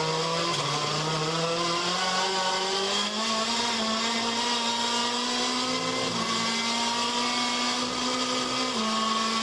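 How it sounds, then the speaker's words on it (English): A WTCC touring race car engine drones loudly at high revs onboard during the 2014 race in Russia, its pitch holding steady, then dipping and stepping slightly as the note is electronically modulated. "You heard him get on the throttle and you heard the electronics modulating the engine note"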